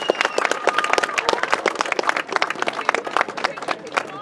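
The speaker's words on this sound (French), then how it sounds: "on peut faire une salve d'applaudissements aux 8 candidats" Applause from a crowd at a student welcome ceremony for eight cooking contest candidates, dense steady clapping filling the room with a loud, continuous patter and no pauses.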